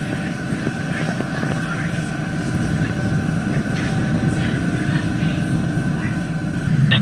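A Falcon 9 rocket carrying a crewed Dragon capsule roars continuously during launch ascent, a broad, steady rumble heard alongside commentary from mission control.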